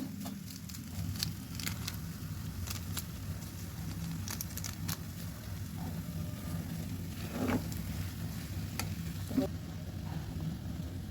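Vegetable noodles frying in a pan as spices are added, a steady low sizzle and soft patter with occasional light clinks, fairly quiet and close.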